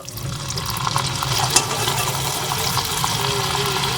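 Rice frying in hot, bubbling oil, a loud steady sizzling hiss with a dense crackle that holds continuously throughout at close range.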